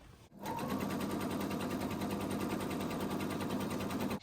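A sewing machine runs a steady, continuous line of gathering stitches along a skirt seam, close and loud for about four seconds after a brief pause at the start.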